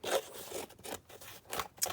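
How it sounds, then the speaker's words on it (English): Scissors scrape and snip along paper edges to rough them up for a junk journal made from Amazon packaging, a close series of rasping strokes in an uneven rhythm with brief pauses between them. "just kind of roughing the edges up now with the scissors."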